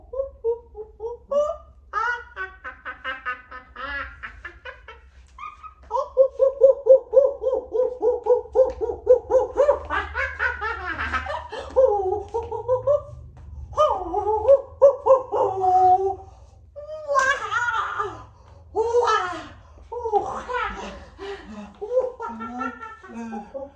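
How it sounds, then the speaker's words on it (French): Monkeys call in a jungle of palms, coconut trees, giant ferns and lianas near a river, a series of loud hooting, wavering howls that rise and fall in long close-up bouts with short pauses. "il y a un singe, un autre singe"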